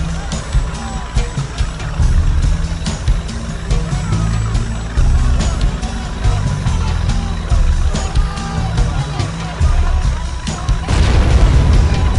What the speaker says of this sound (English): We've got explosions!